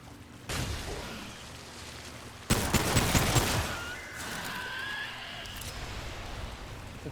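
Pistol gunfire in the video game Remnant 2, a burst of loud sharp shots over a busy game soundscape, with further sound effects trailing after.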